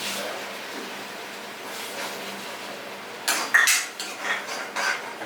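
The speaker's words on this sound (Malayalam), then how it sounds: "അപ്പൊ അത് വരെ നമുക്കൊന്ന് ഇളക്കി വെക്കാം." A spoon stirs ground tomato paste in a pan, with a quiet sizzle first and then several clear clinks and scrapes of metal on the pan near the end.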